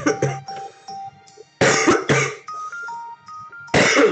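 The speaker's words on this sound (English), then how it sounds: "Sorry, I got a bit of a cough there." Several harsh coughs burst out in quick clusters, close and loud, while soft electronic game tones from the video game Santa Run 3 beep in the background between them.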